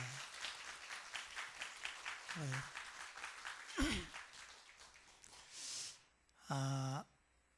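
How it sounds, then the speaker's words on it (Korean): Church congregation applause during a Sunday morning service, a busy patter of clapping running under a few spoken words and brief vocal sounds, fading near the end. "박수 한번 하겠습니다"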